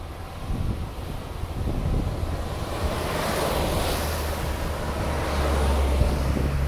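Steady roar of ocean surf washing in at Atimonan Port, broad and continuous, with wind buffeting the microphone and a low rumble underneath.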